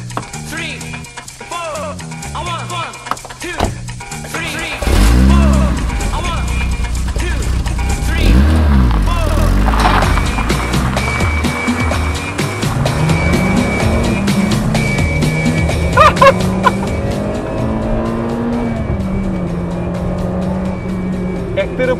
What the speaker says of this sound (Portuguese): é ir dar uma voltinha para vocês verem o que é um 1300 100 cavalos com 24 anos